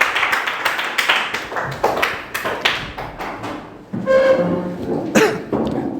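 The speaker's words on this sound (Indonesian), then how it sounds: "Silakan tepuk tangan untuk kelompok 2." A short burst of scattered hand claps from a small group of schoolchildren in a classroom, uneven and fading, followed by shuffling and a few thumps.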